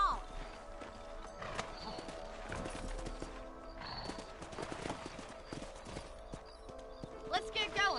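Horse hooves clip-clop at a steady riding pace in the Western video game Red Dead Redemption, fairly faint under in-game dialogue, with a brief whinny near the end.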